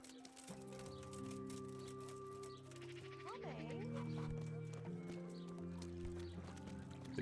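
A horse whinnies briefly in a fantasy role-playing video game, its rising and falling neigh heard at mid-distance over steady background music with possible hoofbeats.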